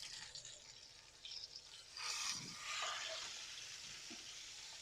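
A single half-kilo, masala-coated piece of king fish sizzles softly in a frying pan, with a brief scrape and a louder hiss as it is flipped, then steady gentle frying.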